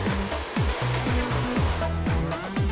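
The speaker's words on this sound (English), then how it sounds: "the heat from the hairdryer will penetrate around the brush, drying that off for you." A hair dryer blows steadily and loudly throughout while hair is blow-dried around a brush, its constant whooshing roar filling the clip with no pauses.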